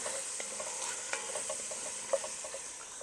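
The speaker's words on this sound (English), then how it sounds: "I'm going to get these sauteed just a bit." Mixed vegetables for a Tex-Mex cheesy penne sautéing in a pan, a soft, fairly faint sizzle with a few light stirring taps, no talking.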